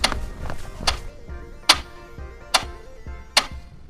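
A clock ticks in the silence at 3 a.m. in a horror story, with regular, crisp ticks about a second apart, a few noticeably sharper than the rest, over a quiet low drone.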